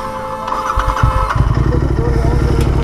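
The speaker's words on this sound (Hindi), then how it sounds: "तो ये इसका एग्जॉस्ट साउंड" A Royal Enfield Interceptor 650 motorcycle fires up and settles into a loud, close, steady exhaust rumble that continues without a break.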